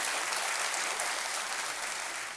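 Studio audience applause on a Hindi TV quiz show set, a dense, steady wash of many hands clapping at full volume for the whole stretch, no voices above it.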